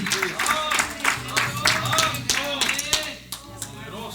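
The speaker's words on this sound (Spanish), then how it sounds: "Denle un aplauso a Jesús." A church congregation claps rhythmically during a Spanish-language worship service, sharp hand claps in a steady pulse with some musical tones and crowd sound underneath.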